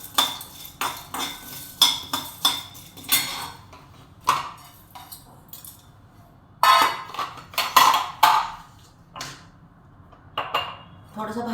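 Large and small cardamom pods for chai masala are dry-roasted in a kadhai, a spoon scraping and clinking against the metal in irregular strokes, close and distinct with pauses between.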